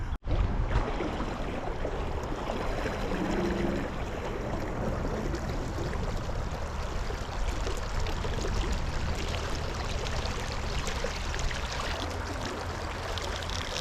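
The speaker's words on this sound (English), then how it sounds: "We got a nice set of riffles." Limestone-influenced trout stream flowing over a set of riffles, a steady broadband rush of moving water that holds constant from start to finish, fairly close with no voices.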